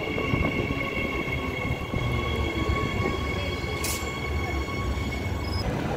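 EMU electric trains 53 and 126 running a service to Butler at Currambine station, a steady loud rumble of rolling stock with faint electrical whine throughout and a brief hiss near the end.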